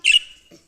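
A short, bright electronic chirp rings out alone, followed by a faint lower squawk, like a game bird call.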